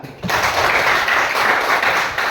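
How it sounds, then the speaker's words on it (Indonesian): Students in a classroom break into applause after a quiet moment, a dense, loud wash of clapping hands lasting about two seconds. "Tepuk tangan."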